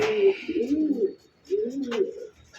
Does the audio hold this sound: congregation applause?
no